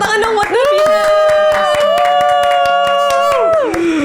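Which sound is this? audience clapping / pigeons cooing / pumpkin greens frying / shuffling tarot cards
audience clapping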